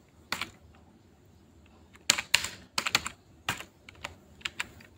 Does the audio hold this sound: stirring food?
no